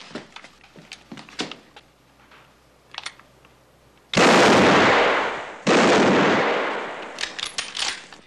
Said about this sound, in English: He doesn't like guns. The noise scares him.